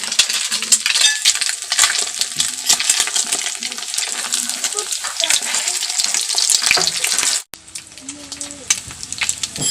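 A fried dessert cooks in a pan with a loud, continuous crackling sizzle punctuated by stirring clinks, briefly cut off near the end before resuming more quietly.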